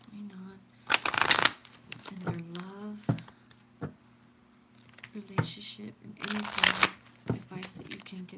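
Romance angel tarot cards are shuffled in two brisk, crisp riffling bursts close to the microphone, with softer card handling and a voice speaking between them over a faint steady hum.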